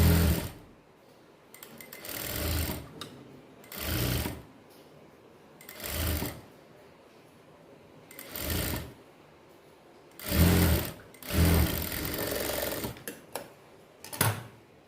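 A sewing machine stitching lining onto a scallop neckline in bursts of whirring stitches, about seven runs of a second or so each, separated by quiet pauses, close and clear.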